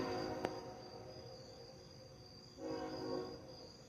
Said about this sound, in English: So I bet that's the train right there.